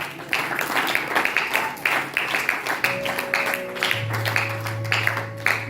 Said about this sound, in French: Acclame fort pour la gloire du Seigneur